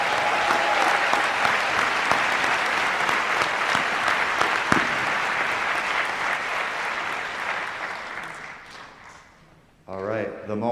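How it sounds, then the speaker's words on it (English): A crowd at a nursing school winter convocation and pinning ceremony gives graduates a dense, sustained round of applause that tapers off near the end, after which a voice starts speaking. "I need another round of applause."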